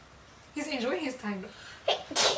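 A single sharp sneeze bursts out near the end, close and fairly loud, following a stretch of casual conversation during a music reaction.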